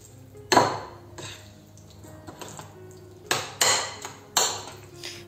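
Pumpkin pie batter is mixed by hand in a bowl, with several sharp clinks of a utensil striking the bowl standing out over quieter scraping and stirring.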